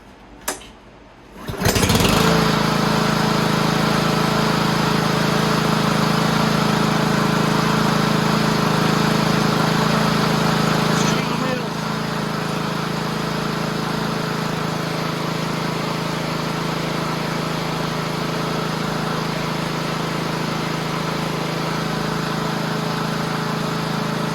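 A used walk-behind lawn mower's small engine starts from cold on a hot day. A brief pull is followed by an immediate steady buzzing drone that runs loud and constant, easing slightly partway through and continuing to the end.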